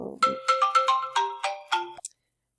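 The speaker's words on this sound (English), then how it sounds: "sorry for the phone call interruption" A phone ringtone plays a bright melodic sequence of about eight tones in quick succession, fairly close and clear with no talk over it, ending abruptly after two seconds.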